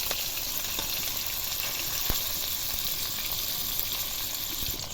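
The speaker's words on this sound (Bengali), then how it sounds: "এই মাছগুলো খুব ভালো করে ভেজে নিয়েছি" Pangas fish pieces fry in a pan of oil with a steady, dense sizzle that stays close and even throughout, broken only by a few faint pops and clinks.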